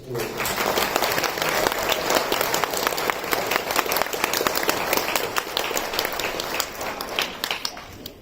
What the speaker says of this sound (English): So a round of applause for those students.